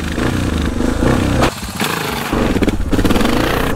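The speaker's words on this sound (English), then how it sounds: "Get your revs up." A motorcycle with a broken clutch revs hard up close, its engine blaring loud and rough with a brief dip in the middle before surging back, with rattling mechanical clatter throughout.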